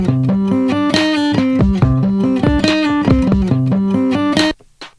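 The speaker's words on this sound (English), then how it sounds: "We'll add in this acoustic guitar loop." A strummed acoustic guitar loop plays loud and clear over a steady drum beat, cutting off abruptly just before the end.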